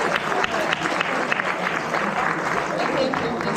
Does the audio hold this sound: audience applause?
yes